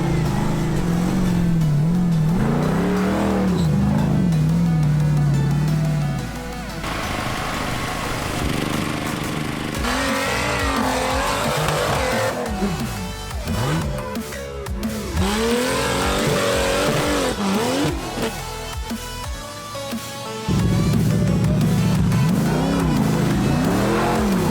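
Off-road 4x4 trial vehicles in South Waikato, New Zealand, loud and close, engines revving hard in repeated surging bursts that bounce off the rev limiter, with steady engine roar throughout and rising and falling pitch sweeps.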